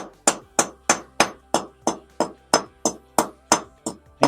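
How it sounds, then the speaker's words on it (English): A hammer strikes concrete chunks around a drain pipe in a basement bathroom rough-in, making about a dozen sharp, evenly spaced knocks close up at a steady pace, with no voices. "Take your hammer,"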